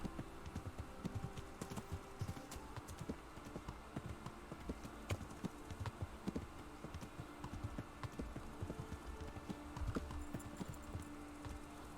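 Horse hooves clip-clop in a steady, rapid rhythm in the medieval video game Kingdom Come: Deliverance, moderately loud and continuous under soft game ambience.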